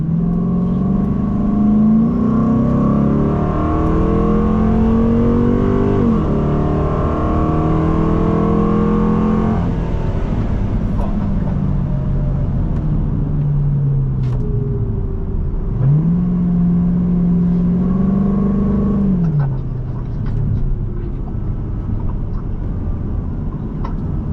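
A 3V Mustang V8 races around the Streets of Willow track, its engine revving hard through gear changes and then dropping back, with rising and falling pitch sweeps heard up close from the car throughout.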